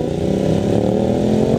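Motorcycle engine revving hard during a wheelie on the Mulholland Snake road, a loud, steady mid-pitched roar that holds close to the rider for the whole short stretch.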